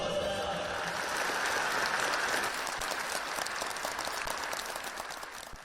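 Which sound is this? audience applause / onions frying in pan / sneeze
audience applause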